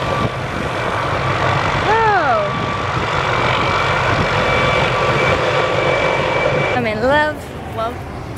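Airplane landing close by, a loud continuous engine drone and rumble filling the whole stretch, with voices talking over it.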